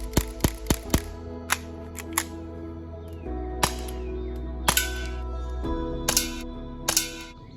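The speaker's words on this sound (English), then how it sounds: "want to give you a very up close look at this while it's shooting, just so you can get a feel of the blowback" A Colt M45 CQBP blowback air pistol fires at close range, sharp snapping shots with a mechanical clack from the slide, a quick string of five then scattered single and double shots over a faint hiss.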